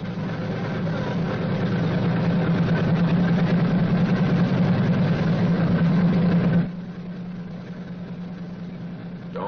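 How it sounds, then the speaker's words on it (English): A WWII B-29 Superfortress radial piston engine idles at a steady, heavy drone with a strong low throb. Around two-thirds of the way through it drops abruptly to a quieter, thinner running level. "When the engine fires, move the mixture control to auto-rich."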